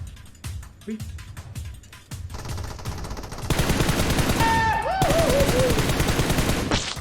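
Unsuppressed MK12 rifle fire in PUBG Mobile: sharp single shots and rapid bursts ring out close and loud, joined by overlapping distant gunfire and in-game mechanical effects.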